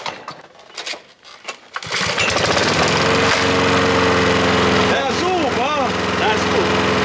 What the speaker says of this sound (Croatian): Tata, hoćeš upali kosilicu više.